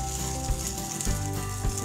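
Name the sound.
beaten egg frying in a pan for karandi omelette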